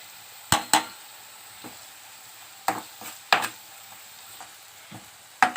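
Chopped tomato sautéed with boiled clams in a pan, a low steady sizzle broken by sharp spoon clacks against the metal at irregular intervals, close by.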